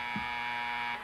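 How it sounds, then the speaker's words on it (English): A steady electronic game show 30-second time-up buzzer on Sesame Street drones at moderate volume for about a second, a flat sustained tone that fades slightly at the end. "there goes our 30-second buzzer"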